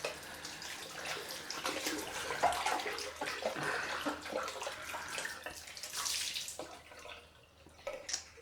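Running tap water pours into a sink as a straight razor is rinsed under it, a steady, close splashing wash that shifts slightly before tapering off near the end.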